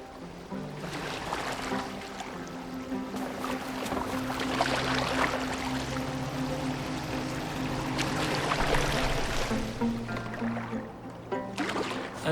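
Boat moving through water in Assassin's Creed Valhalla, set in England: a continuous wash and lapping of water against the hull beneath a low musical drone, fairly quiet and steady.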